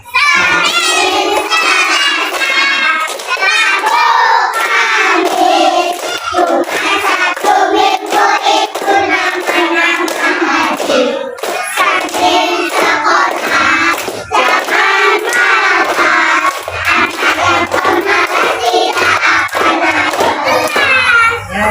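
Kindergarten children in a classroom sing a song about the days of the week together, a loud, continuous chorus of young voices with rhythmic phrasing lasting throughout.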